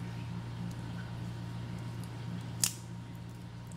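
A single quick snip of scissors cuts excess wicking cotton at close range, a brief crisp click over a low steady background hum.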